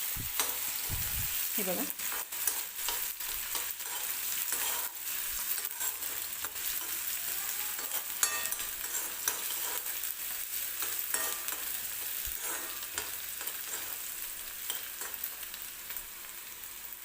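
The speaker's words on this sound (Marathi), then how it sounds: "कांदा थोडासा सॉफ्ट होईपर्यंत भाजून घ्यायचं आहे आपल्याला." Onion sizzles in a pan with curry leaves and green chili, a steady, close frying hiss with occasional stirring scrapes and clicks throughout. A voice speaks briefly near the start.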